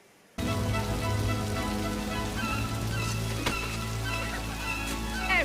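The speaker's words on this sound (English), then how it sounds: "She needs that rain to wash her clean." Steady rain falls in a dramatic television drama scene, a dense continuous wash over low music after a quiet start.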